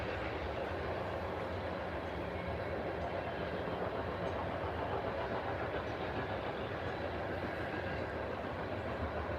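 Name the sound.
diesel electric freight train passing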